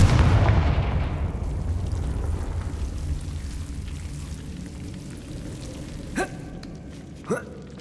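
A Confringo fire spell blasts in the Hogwarts Legacy video game, opening with a loud, broad fiery burst that rumbles away over several seconds, followed later by two short sharp impacts.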